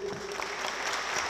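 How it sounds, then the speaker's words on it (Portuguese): Guests at a formal solemn session awarding the Tiradentes Medal in Rio de Janeiro give a round of applause, a steady, moderately loud patter of many hands clapping that continues evenly throughout. "Eu pediria uma salva de palmas para você."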